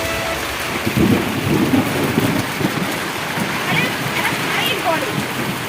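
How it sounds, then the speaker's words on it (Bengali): Heavy rain pours down steadily in Chandannagar with low rumbles of thunder rolling through, a dense wash of falling water and splashes close by, with a person speaking faintly underneath. "আর যা জোর বৃষ্টি পড়ছে, এখন থামবে কিনা বলা খুব মুশকিল"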